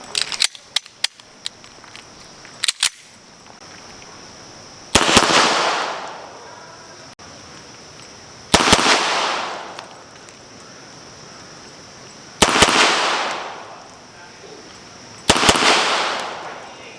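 Armscor 1911 Classic pistol fired in quick double taps at a target range, four loud paired bursts spaced a few seconds apart after some earlier sharp clicks and pops, with no talking.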